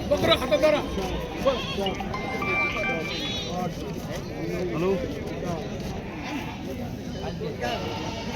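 Goats, including Kathiyawadi goats, bleat here and there over a busy crowd at the Loni goat market, with people talking throughout.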